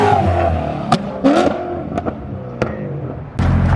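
A BMW E92 M3 fitted with a very loud aftermarket exhaust revs hard and downshifts, with sharp blips and crackling pops cutting through a rough, throaty engine roar close by.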